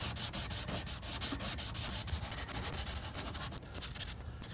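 Bondo filler over a crack in a plastic Chevrolet Volt bumper is sanded by hand with fine grit paper. The close, continuous rasping strokes come in a steady back-and-forth rhythm and are heard alone.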